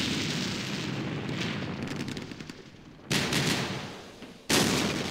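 Artillery fire in the war game Campaign Series Middle East, set in the Second Arab-Israeli War, rumbles as a sustained roar of shelling, then two loud, abrupt blasts hit near the end, with no talk.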